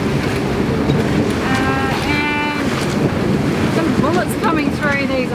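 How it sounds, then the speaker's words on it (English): Steady, loud rush of wind up to 29 knots and surf while sailing in Fiji, with broadband roar throughout, a few brief whistling tones rising and falling over the din, no clear talk. "It's super windy today, up to 29 is the most I've seen."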